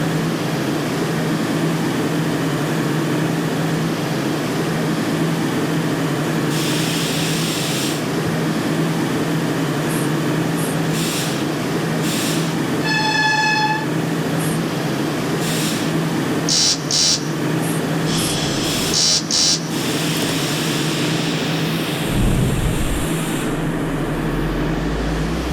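A simulated train in the OpenBVE game pulls away with a steady low electric motor drone and hum, broken by brief chimes, clicks and a short rising tone, with a rumbling shift near the end.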